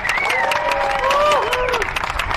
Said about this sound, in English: Can I get a nice round of applause for all three of these riders?